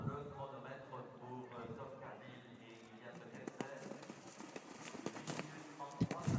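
A six-year-old mare walks on the ground after a cross-country round at an eventing championship, her hooves clip-clopping quietly under steady commentary and crowd ambience.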